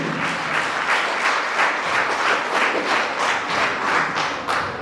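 Audience applause for the young pianists at their solo recital, with a hall full of hands clapping in a rhythmic, pulsing burst that holds steady and then eases off at the end.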